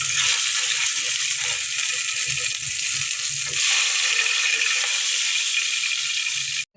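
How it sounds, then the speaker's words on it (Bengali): Tomatoes fry gently in a pan after the fish, giving off a continuous bright sizzle with faint stirring sounds underneath. The sizzle holds steady, then cuts off abruptly at the end. "এখন টমেটোগুলো ভেজে নেবে একটু হালকা ভাবে।"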